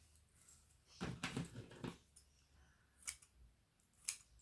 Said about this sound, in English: I'll just cut a bit of cheesecloth.